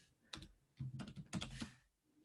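A computer keyboard is typed on in a few short close bursts of clicky keystrokes separated by brief pauses, fairly quiet with no talking.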